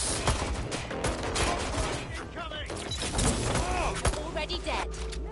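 Gunfire in the video game Watch Dogs Legion on PS5: dense, continuous bursts of shots with crackling impacts, loud and busy, with voices shouting over the firefight.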